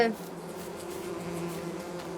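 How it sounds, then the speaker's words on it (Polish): A steady, low buzzing drone of bees from five hives in Farming Simulator 22 hums continuously at moderate volume, with no other prominent sounds. "A mam pszczoły."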